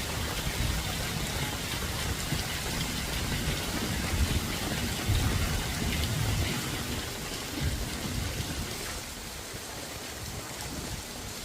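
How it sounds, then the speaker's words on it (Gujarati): Heavy rain pours down steadily, a dense continuous hiss and patter, no voices. "કેટલો ફાસ્ટ વરસાદ પડી ગયો છે તમે જોઈ શકો છો ફૂલ વરસાદ છે આજે"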